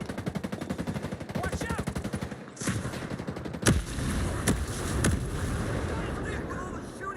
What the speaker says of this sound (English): With all the shooting going on!